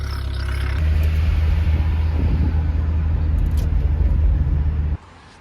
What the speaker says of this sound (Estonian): Oi, minu autokene juba lahkub.